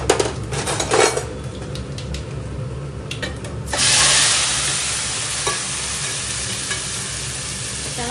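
Panch phoron spices hit hot mustard oil in a pan, bursting into a loud, bright sizzle midway after quieter clinks and stirring, then settling into a steady, close frying hiss.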